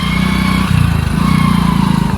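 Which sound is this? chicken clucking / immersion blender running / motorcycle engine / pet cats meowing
motorcycle engine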